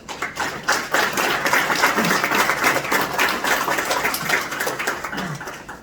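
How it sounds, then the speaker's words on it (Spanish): An audience at a municipal water and sanitation services event applauds a doctor, with loud, dense clapping that holds steady for several seconds and has distinct sharp hand strikes, with no talk. "Le solicito un aplauso para el doctor."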